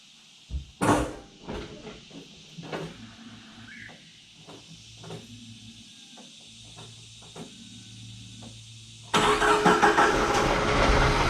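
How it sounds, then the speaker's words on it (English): A Jeep Wrangler TJ fitted with new injectors cranks in a series of uneven mechanical bursts, then the engine catches and settles into a loud, steady running roar near the end. "I'm going to give it some cranks and see if it'll start."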